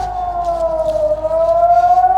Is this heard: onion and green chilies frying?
no